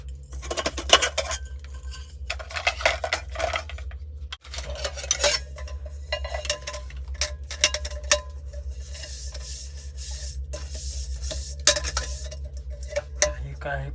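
Steel cooking vessels are pulled out and clatter inside a parked truck's cab, a run of sharp metallic clinks and scrapes in uneven bursts, close by over a low steady engine hum.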